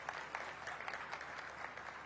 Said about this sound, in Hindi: आप तालियां बजाकर इनका स्वागत करिए।